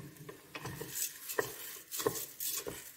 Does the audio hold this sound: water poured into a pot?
no